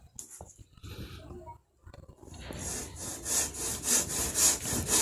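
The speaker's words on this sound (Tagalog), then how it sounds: "Lalagariin ko na yan." Hand saw cutting a wooden board along a marked line, a steady back-and-forth rasping of strokes that grows louder and more rhythmic, close up, after a few brief knocks and scrapes.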